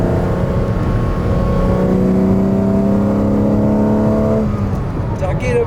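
A 1980 BMW M1's loud engine revs and pulls hard, its pitch climbing steadily under acceleration before easing off near the end, heard from inside or close to the car.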